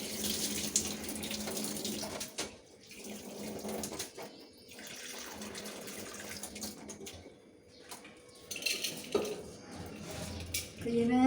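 Water splashing and pouring as soaked rice is drained in a home kitchen, with running, sloshing water and light clinks of a metal pot, close and fairly steady, with a faint voice now and then.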